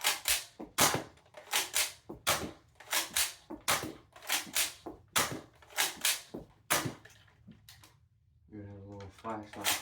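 Realistic Nerf blasters firing in rapid succession, a steady series of sharp mechanical snaps and clacks close by, followed near the end by a pause and a voice speaking.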